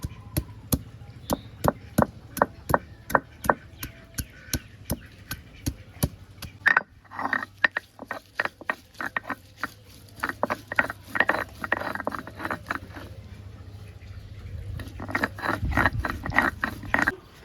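Ginger and garlic cloves are pounded into paste with sharp, rhythmic knocking strikes, close and fairly loud, repeating steadily with brief pauses and a faint low hum beneath.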